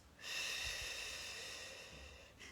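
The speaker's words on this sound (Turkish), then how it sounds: "şimdi burnumuzdan nefes alıyoruz ve ağzımızdan veriyoruz" A single long, quiet breath drawn in through the nose during a guided breathing session, soft and close, with a faint rustle of air and no speech.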